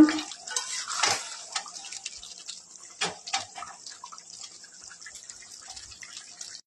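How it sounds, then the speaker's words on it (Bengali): Warm water pours and splashes into a pan of Bengali chicken kosha, a close, bright trickle with a few louder splashes before settling into a softer flow. "একটু জল দিয়ে দিচ্ছি, উষ্ণ গরম জল।"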